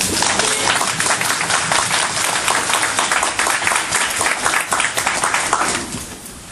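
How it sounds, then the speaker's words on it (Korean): A Korean church congregation applauds the choir, sustained loud clapping from many people that carries on steadily before tapering off near the end. "우리 박수 한번 하시죠"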